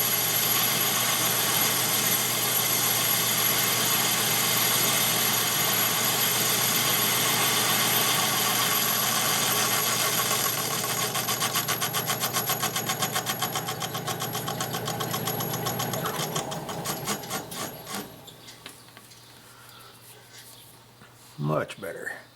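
A metal lathe runs steadily with a dense mechanical whir and hum, then spins down and fades out near the end, followed by a couple of brief knocks.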